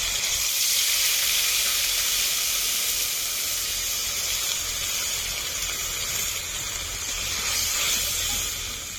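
Ginger, cumin and dried red chilli paste with water sizzling steadily in a hot pan, a continuous loud hiss and bubbling that holds through with no talk.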